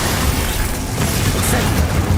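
A Confringo blast spell cast in Hogwarts Legacy, a dense, loud explosive boom filling a short burst with heavy low rumble and no pause.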